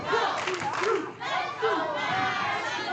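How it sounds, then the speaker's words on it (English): Crowd at a New Texas Pro Wrestling event cheering for the wrestler Mack, a steady, close wash of voices and shouts with commentators talking over it. "the crowd getting behind Mack here as Jay Sharpe has been in control since this went outside"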